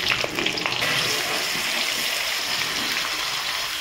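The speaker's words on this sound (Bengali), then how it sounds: "তেল গরম হয়ে গেছে, পাঁচফোড়ন আর শুকনো লঙ্কা দিয়ে দিচ্ছি। আম দিয়ে দিচ্ছি" Green mango pieces fry in hot oil with panch phoron and dried red chillies, producing a steady, loud, close sizzle that holds evenly throughout.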